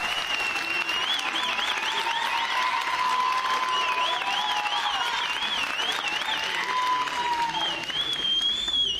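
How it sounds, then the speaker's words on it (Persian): A studio audience applauds a team on a game show, sustained loud clapping and light cheering that runs evenly for about nine seconds, with a whistling musical tone layered over it. "تشویقشون کنید"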